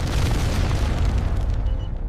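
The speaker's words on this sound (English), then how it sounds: "Missiles were launched across the Persian Gulf towards Qatar." A missile strike explosion erupts as one deep, heavy boom, its rumble rolling on steadily for about two seconds without any voices.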